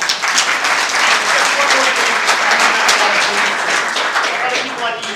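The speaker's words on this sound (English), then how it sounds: "And again, just one last round of applause for OCCU." Sustained audience applause fills a luncheon room, dense and steady clapping from many hands throughout, fading slightly at the end.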